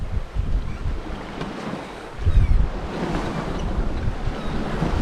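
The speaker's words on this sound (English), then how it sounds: "We're getting some waves now here. We're getting a little more wind." Waves slosh against a sailboat's hull at sea during an overnight passage, with gusting wind buffeting the microphone; a close, rumbling wash that swells and surges unevenly.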